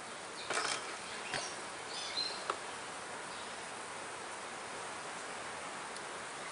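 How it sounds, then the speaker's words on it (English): Honey bees crowding the front of a strong, busy beehive make a steady, close buzzing hum throughout, with a few louder swells as individual bees pass near. "Got an awful lot of bees hanging off the front."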